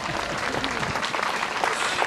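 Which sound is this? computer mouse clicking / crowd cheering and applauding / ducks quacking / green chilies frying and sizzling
crowd cheering and applauding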